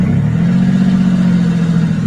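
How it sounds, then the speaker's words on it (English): Ford Ranger with a straight-pipe exhaust, a loud, close, steady low engine drone that holds an even pitch for the whole stretch without audible talk. "The Ford Ranger straight pipe exhaust."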